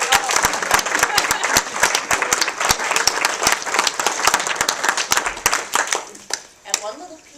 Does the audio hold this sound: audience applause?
yes